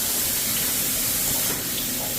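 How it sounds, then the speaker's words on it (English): A shower runs in a remodeled home's bathroom, a continuous close, loud hiss of spraying water with no break and no talk. "Then that one turns the shower on."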